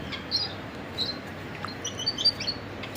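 Small birds chirp and tweet in scattered, high-pitched calls on an afternoon in a Gujarat village, some coming after bathing; the calls are fairly faint and distant over a steady low background hum, with no talking.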